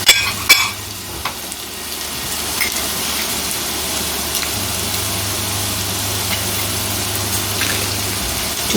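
Onions sizzle steadily in a hot pan for a Sri Lankan salmon curry, with a continuous crackling fry, a few sharp utensil knocks early on, and no talk.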